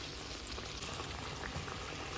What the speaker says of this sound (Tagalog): At hayaan muna natin siyang kumulo.